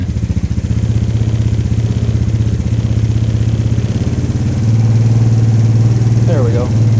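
A Suzuki Ozark LTF-250 ATV engine runs at a steady high idle indoors, its rapid, even putter loud and close, with a brief sound near the end.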